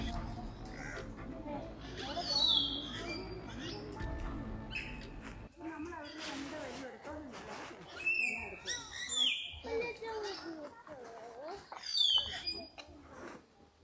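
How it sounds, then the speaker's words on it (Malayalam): Scattered bird chirps and calls ring out from trees outdoors in Idukki, amid rustling and footsteps, with a voice speaking partway through. "നമുക്ക് കുറച്ച് പക്ഷികളുടെ സൗണ്ടൊക്കെ കേൾക്കാവേ"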